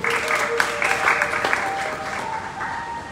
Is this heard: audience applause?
yes